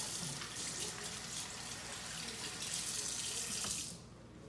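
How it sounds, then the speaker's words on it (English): Running kitchen tap water splashing over hands being washed in a sink, a steady close rush that cuts off near the end. "Give my hands a quick wash."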